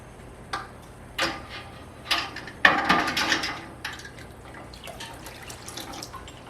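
Filled, capped huckleberry jam canning jars are set back into a warm water bath. Several glassy knocks and clinks sound close by, with light sloshing and dripping water between them.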